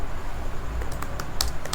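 Keys tap on a computer keyboard as code is typed for an Express.js web application, a few quick, light clicks over a steady background hum.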